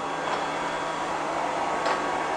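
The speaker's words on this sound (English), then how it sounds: "I've always kind of been a bit freaked out by these robot vacuum things" A robot vacuum cleaner runs nearby with a steady, moderate whirring hum, faint ticks and clicks dotting the even drone, and no talking.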